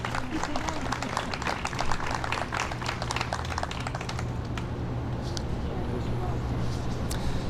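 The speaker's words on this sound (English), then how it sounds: "A round of applause for Lawndale Christian Development Corporation." Audience applause for Lawndale Christian Development Corporation at a Neighborhood Opportunity Fund grant finalists event, a dense clapping crowd that thins and fades in the second half under low background hum.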